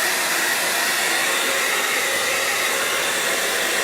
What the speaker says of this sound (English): I'm going to take the hairdryer to this a quick minute again